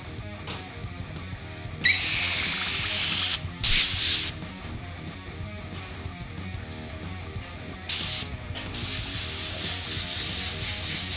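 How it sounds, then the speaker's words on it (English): An airbrush sprays orange paint in several sharp hissing bursts of one to two seconds each, close and loud, separated by quieter stretches of background hum. "take this orange and we'll spray it over the top"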